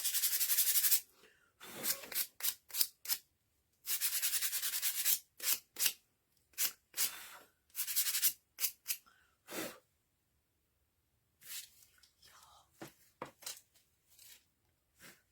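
Brisk scraping strokes of a sanding block rubbing a mason jar, coming in quick bursts with short pauses, close and fairly loud, with no talking.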